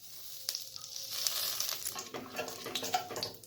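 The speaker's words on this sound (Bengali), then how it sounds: "তো ফোড়ন দিয়ে দিই কালো জিরে।" Black cumin seeds dropped into hot oil as a tempering, after prawns were fried, crackling and sizzling in short bursts with a stirring clatter, close and moderately loud.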